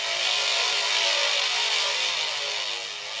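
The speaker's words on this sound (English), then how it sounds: "A raising atmospheric sound." A breathy atmospheric sound effect in an electronic music track, a steady wash of airy noise that holds at an even, moderately loud level and eases slightly toward the end.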